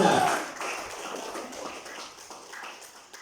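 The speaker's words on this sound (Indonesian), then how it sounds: "semuanya tepuk tangan untuk ketua kelas kita" A classroom of students applauds their class leader with a burst of dense, scattered clapping that starts loud and gradually thins and fades over a few seconds.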